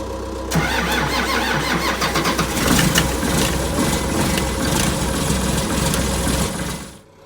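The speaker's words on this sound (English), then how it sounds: "let's see if the old dozer will come to life" An old bulldozer's engine cranks and catches within about half a second, then settles into a loud, rough, rumbling idle close by before cutting off near the end.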